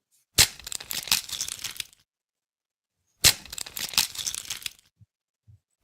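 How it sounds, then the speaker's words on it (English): An egg cracks twice in separate takes, each a sharp crack followed by about a second and a half of crunchy, crinkling shell breaking, close and clear with silence between. "It was cracking an egg, maybe to make that cake"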